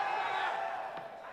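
Spectators at a ROAD FC mixed martial arts bout raise a brief, swelling roar of cheering across the arena, a dense crowd wash fading slightly within a second or so.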